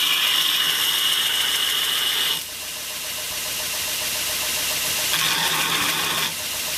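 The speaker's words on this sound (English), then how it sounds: "Not pushing too hard, but it takes metal off quite easily." An angle grinder with a 1400-watt motor run at maximum cuts into scrap metal, giving a loud, steady high whine that drops off around the midpoint and then surges again near the end.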